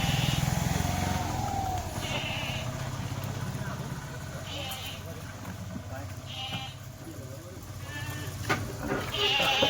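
Kathiawari goats bleat several times at intervals, over a steady low engine rumble and background voices.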